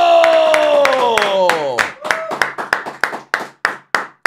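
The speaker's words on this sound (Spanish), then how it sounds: "recibamos con un fuerte aplauso a Marco" Audience clapping for a performer being welcomed on stage at a comedy show, a few sharp claps under a sustained tonal sound that gives way to scattered individual hand claps with gaps between them.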